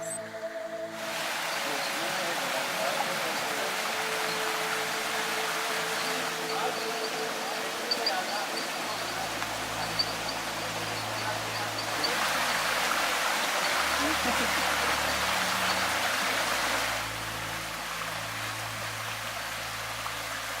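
Water running through a forested gorge among tree ferns, a continuous broadband rush that holds steady for the whole stretch, with some low humming underneath.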